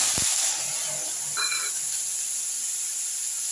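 Ginger and mustard seeds in hot oil give a steady high hiss throughout, with a faint brief crackle at the start and a few thin tones in the middle.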